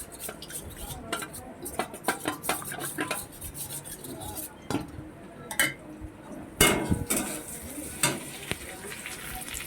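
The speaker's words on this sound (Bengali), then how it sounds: "কর্নফ্লাওয়ারটা জলের মধ্যে মিশিয়ে নিয়ে ভালো করে মিশিয়ে নিলাম।" A spoon stirs cornflour into water in a bowl in a home kitchen during chilli chicken preparation, giving a run of irregular clinks and scrapes, close and sharp, over a low background hiss.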